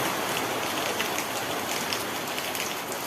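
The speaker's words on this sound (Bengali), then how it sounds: "খুব আকারে বৃষ্টি, দেখেন খুব এত পরিমাণ বৃষ্টি" Heavy rain pours steadily, a dense, even roar of drops striking surfaces close by, unbroken and without speech throughout.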